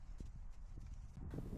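Hooves of a young horse walking on a lunge line clip-clop in a steady rhythm close by, with some low rumble and handling noise around them.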